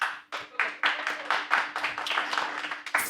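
An audience at a live weekly show in a small venue claps in a quick, dense burst of applause, close and fairly loud, with individual claps distinct across a few seconds.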